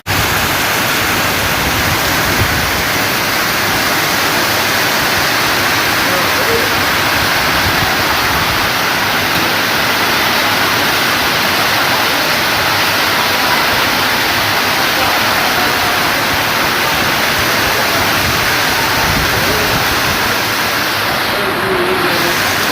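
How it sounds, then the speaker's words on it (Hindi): Very heavy rain pours down in Lalpur Jatta, Gujrat district, Pakistan, a loud, unbroken roar of falling water close by that stays steady and dense throughout with no talking. "देखें माशाल्लाह माशाल्लाह बहुत तेज़ बारिश, बहुत ही तेज़।"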